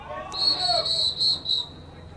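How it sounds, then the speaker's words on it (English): Referee's whistle at a Plymouth vs Trinity lacrosse game, a shrill high tone blown in several short bursts over about a second and a half, with crowd murmur and a commentator's voice in the background. "Got a whistle and officials timeout."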